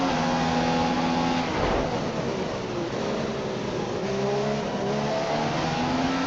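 A Red Bull Formula 1 car in a racing game at Austria 2015 roars past up close, its high-revving engine whining with shifting pitch as another car's drone mixes in, loud and steady throughout.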